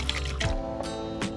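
Water pours into a cooking pot for tilapia sinigang, a short wet splash and gurgle in close quarters with a couple of light drips.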